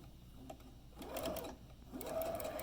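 A sewing machine stitches the fabric of a drawstring bag in two short, close runs of fast, even whirring and clicking, separated by a brief pause.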